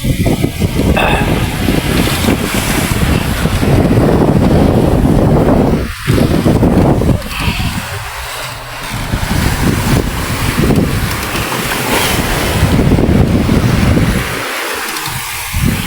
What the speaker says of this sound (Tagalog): Lalaki ng mga basag ng alon.